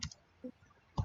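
Two sharp computer mouse clicks about a second apart on a login button, soft and close, with a faint tone between them.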